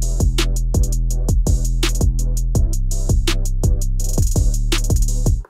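An MPC Live 2 sample played back at half speed with an air-flavor timbre and a filter gate, heard as a steady rhythmic sequence of chopped, pulsing tonal hits with a bright top, loud and alone with no talking.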